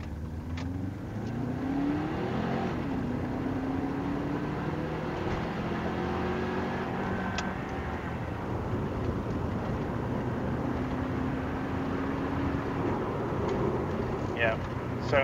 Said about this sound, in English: So I'm going to do a second gear wide open throttle run like before